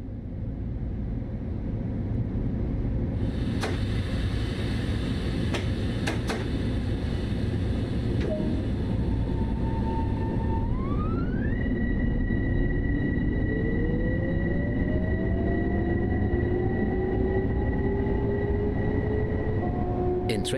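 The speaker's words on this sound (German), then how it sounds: "Dieser Zug ist bereit zur Abfahrt." A Harlem Line train in Train Sim World 2 pulling away, a rising electric motor whine climbing in pitch over a steady low rumble, with a few clicks and a brief tone early on.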